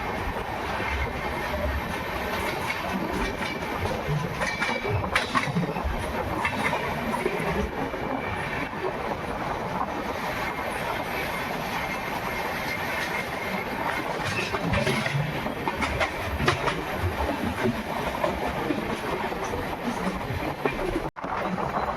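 An express train hauled by a WDP 4D diesel locomotive runs steadily past a skipped station, a continuous loud rumble of engine and rolling wheels with rail clatter throughout.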